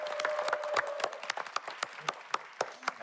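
Studio audience on a Korean music TV show clapping to welcome a performance, with loose, sharp individual claps scattered over about three seconds rather than a dense roar.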